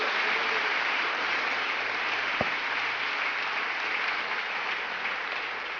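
A church congregation applauds the Lord during a Sunday service, a dense, steady wash of clapping that holds evenly throughout with no voices rising above it.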